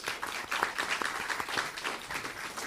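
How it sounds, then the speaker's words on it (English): Audience clapping fills a room at a Hawaii governor's bill-signing event, a brisk, even round of applause lasting a few seconds. "A round of applause for you"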